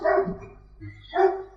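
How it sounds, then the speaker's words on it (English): Dog barking in an indoor lecture hall: two loud barks about a second apart, with a softer sound between them. "Dogs enthusiastic."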